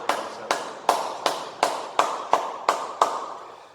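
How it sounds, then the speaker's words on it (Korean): Rhythmic clapping from a church congregation during a Sunday worship service, about nine even, sharp claps spaced roughly half a second apart, moderately quiet with a slight room echo. "우리 하나님께 영광의 박수 올려드리겠습니다."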